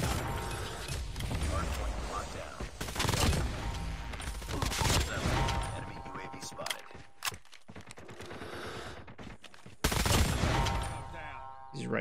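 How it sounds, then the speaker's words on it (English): Rapid automatic gunfire from the CX9 submachine gun in a ranked multiplayer video game match, sustained bursts with short pauses, loud and close, with game effects and a talking player over it. "I'm wasting a whole freaking mag on one guy."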